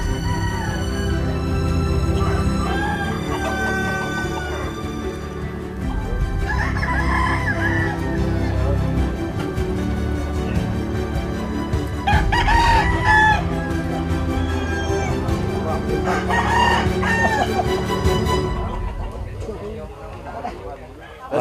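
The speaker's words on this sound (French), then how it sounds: "C'est les coqs là qu'on entend là." Roosters kept as fighting cocks crow repeatedly in Bali, Indonesia, with several drawn-out calls rising over a dense, constant din of voices and background noise while people talk nearby.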